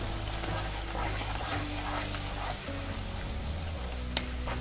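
Onion, tomato and garlic-ginger paste fry in a pan with a loud, steady, close sizzle that runs without a break, under a faint low hum.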